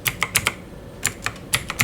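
Keys tapped on a computer keyboard while entering a TRANSPOSE formula into a spreadsheet, a quick run of separate crisp clicks in two bursts with a short pause between, close and clear with no voices.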